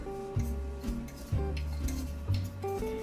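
A spoon stirs a chia seed and protein powder mixture in a bowl, giving a few soft scraping and clinking strokes at a steady rhythm, close and fairly quiet, with no voices.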